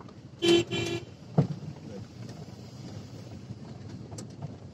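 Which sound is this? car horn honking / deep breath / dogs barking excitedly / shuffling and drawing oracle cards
car horn honking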